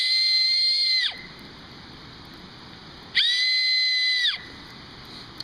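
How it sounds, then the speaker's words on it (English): Acorn cap emergency whistle, blown between the thumbs outdoors, gives two loud shrill tones of about a second each, separated by a short pause, with no speech. "just kind of play around till it starts going like a whistle"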